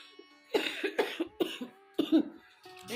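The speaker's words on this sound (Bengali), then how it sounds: "এত কাশি হচ্ছে আর ভালো লাগছে না কিছু" Repeated coughing from a person who has been coughing all day, several harsh bursts in an irregular run across a few seconds, close and fairly loud with brief gaps between them.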